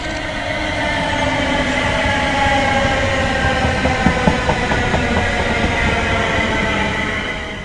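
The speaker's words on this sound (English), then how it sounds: "The train now just leaving Birmingham International" A train pulls out of Birmingham International station, rumbling loudly and close with a steady roar and faint wheel clicks and squeals, alone without voices.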